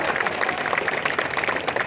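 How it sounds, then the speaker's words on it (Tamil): Audience at a school event clapping in a dense, steady wash of applause that stays loud and even across the short stretch. "நல்ல உற்சாகமான ஒரு கைத்தட்டல் கொடுக்கலாம்"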